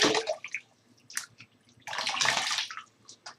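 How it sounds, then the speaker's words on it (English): Water is splashed onto a face before lathering with a shaving brush: two close bursts of wet splashing and dribbling, separated by a brief lull with a few drips. "Going to get a little water going on the face."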